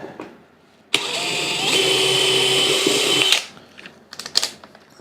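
A power drill bores a pilot hole for a quarter-inch fastener in a single loud, steady burst of about two and a half seconds, with quiet before and brief clatter after.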